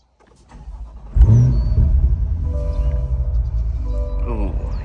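C8 Corvette with the top off, heading down a mountain road: after near silence, a loud engine rumble rises abruptly and holds steady, its pitch wavering as it drives.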